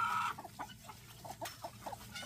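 Chickens on a Philippine farm before a typhoon, clucking in a series of short, quiet calls spread across a couple of seconds, heard at moderate distance against a faint steady background.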